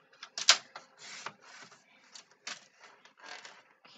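Scrapbook paper trimmed on a paper cutter: a series of short, close, crisp slicing and clicking bursts with brief gaps between them, no talking.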